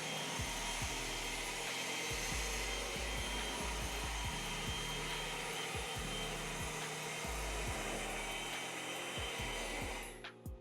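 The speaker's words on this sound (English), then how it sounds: "this is a 6-year-old battery operated leaf blower" An underpowered, six-year-old battery-operated leaf blower dries a freshly washed car. It gives a loud, continuous whooshing whir with faint clicks underneath, then cuts off abruptly near the end.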